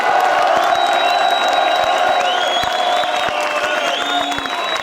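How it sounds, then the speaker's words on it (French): A crowd at an evening gala applauds and cheers, loud continuous clapping mixed with whoops and high shouts, voices rising and falling over the clapping throughout. "Alors applaudissez-le encore une fois"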